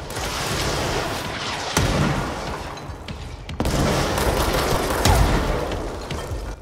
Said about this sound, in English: Where are all these rockets coming from?